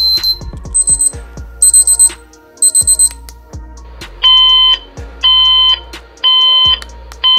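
Core Innovations Galileo alarm clock and Bluetooth speaker cycling through its alarm tones: short bright beeping bursts give way to repeated steady multi-tone chimes, loud and close, with faint clicks from button presses between them.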